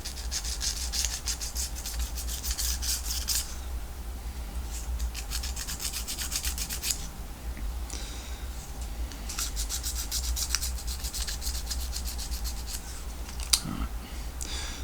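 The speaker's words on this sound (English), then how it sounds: "And now we can just rough up the top of the chassis very gently" Gentle abrading to rough up the top of a tiny N gauge static caravan kit chassis, a soft, fine scratchy rubbing that comes in quick repeated strokes over a steady background hiss.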